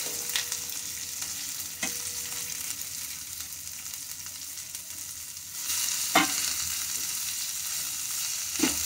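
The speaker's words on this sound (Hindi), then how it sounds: "धीमी आंच पे हमें करना है, हल्का सा कुक करेंगे और मैं ये करी पत्ते डाल देती हूँ और अपनी सेम" Curry leaves and broad beans fry in a pan over a low flame, producing a continuous close hiss of sizzling oil with a few sharp clicks of a stirring spoon, and no voices.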